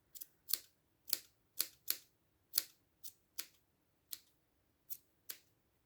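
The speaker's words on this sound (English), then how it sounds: "All these squiggly ends I'm just going to cut off." Scissors snip yarn ends off a crocheted baby blanket border, ten crisp separate cuts at an uneven pace, close and fairly quiet, with no talking.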